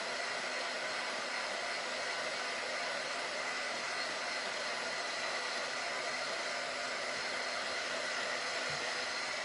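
A hair dryer blows on paint drying on a plaster picture frame, a steady, loud, close whooshing roar that holds even and unbroken from start to finish.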